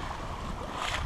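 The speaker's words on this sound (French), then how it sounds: "Bon, on est toujours sous voile, dans la ligne de Teledang." A sailboat under sail slices through waves, a steady rush of water and wind noise with a slight surge near the end, heard close and without voices.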